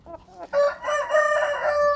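A laying hen vocalizes nearby: a short clucking start, then a loud, drawn-out, harmonically rich cackle that rises and holds for over a second, alone without talk.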